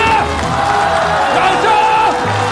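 Loud studio audience applause with cheering and whoops at a singing show, continuous clapping wash with shouted voices rising over it.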